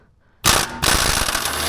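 Breaker bar on a 13/16 deep socket breaking loose a wheel bearing bolt on a 2005 Aviator, Explorer or Mountaineer rear hub: a sudden loud metallic crack, then a sustained grinding, ratcheting rasp up close.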